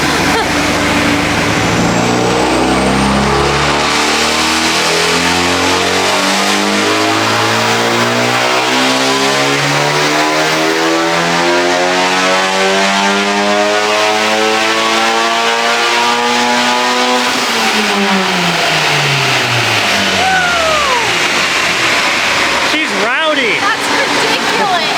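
A Honda Civic Type R FK8 revs loudly on a dyno, its engine note climbing through repeated rising sweeps before dropping away near the end, with voices talking faintly underneath.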